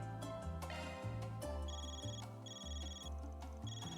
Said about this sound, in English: Your Ziffa's ringing, Van.